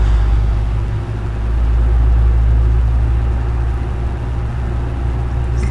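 An Airbus A321 engine spooling up in a flight simulator game: a loud, continuous low rumble with steady droning tones that holds throughout, heard alone without speech.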